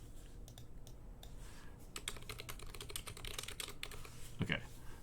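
Rapid typing on a computer keyboard, a close, fairly quiet stream of irregular key clicks and taps lasting several seconds.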